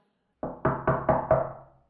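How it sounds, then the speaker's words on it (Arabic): Five firm knocks on a wooden door in a steady, evenly spaced rhythm, close and loud, with no voices. "دق الباب"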